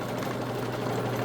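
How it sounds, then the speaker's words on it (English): A homemade buffing machine runs at a steady whir, its pulley adding a constant fast rattling vibration, close and continuous throughout. "you hear a little bit of vibration from the pulley, but that's going to be normal"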